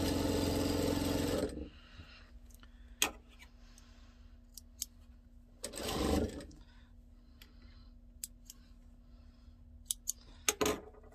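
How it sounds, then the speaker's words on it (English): A sewing machine stitching together fabric pieces for a Trip Around The World quilt, a loud whirring run at first, then quiet with scattered small clicks and a short second burst of stitching. "Now I'm sewing a white one, which is the next one on my, I'm sewing 1 to this end"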